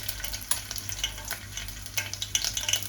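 Fennel seeds sizzle in hot oil for tempering, giving a close, continuous crackle with scattered quick pops and light spatter.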